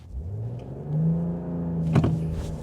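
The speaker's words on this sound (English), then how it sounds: "Let's try another run here. This time we're gonna brake torque it." A 2025 Ram 1500 Warlock pickup launches from a brake-torque hold, its engine droning steadily then swelling louder as it pulls away, with a sharp burst of noise near the end; close and continuous, no talk.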